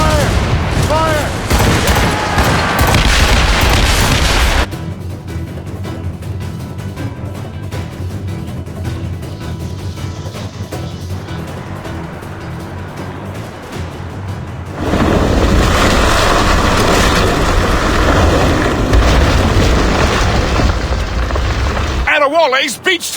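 Heavy naval cannon volleys boom during a ship battle in Assassin's Creed Rogue, loud and dense with repeated blasts and crashing impacts, mixed with shouted crew voices and game sounds.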